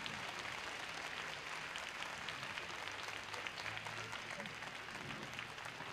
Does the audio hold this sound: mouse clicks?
no